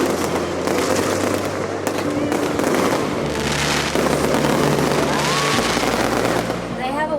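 Dense, continuous crackling and popping bursts from fireworks go off throughout, heard from the bow of a large catamaran, with a steady low rumble and some faint voices in the background.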